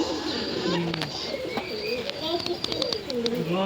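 American King white pigeon cooing in low, rounded repeated calls among other birds, with chirps and a voice faintly in the background.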